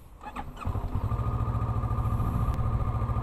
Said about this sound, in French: Et il est maintenant temps de la démarrer.